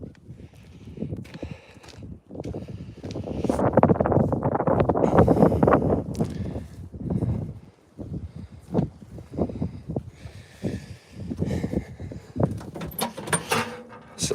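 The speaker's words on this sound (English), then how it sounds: "It sounds windy. Very windy." Strong wind buffets the microphone outdoors on a farm, a rough, gusting roar that swells loudest in the middle and then breaks into choppy bursts, with no talking.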